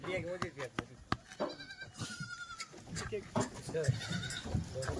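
Kathiawadi goats of Bhavnagar stock bleat repeatedly with wavering, nasal cries at a live livestock sale, several calls close by and overlapping with steady conversation between people.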